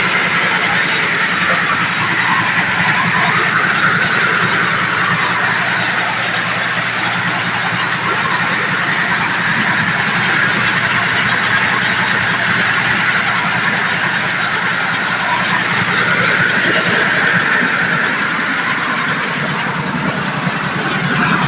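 A rice milling machine with a single 24-inch stone hums and rattles continuously, a loud, steady mechanical drone with a gritty whirring texture, close by and unbroken, with no talking.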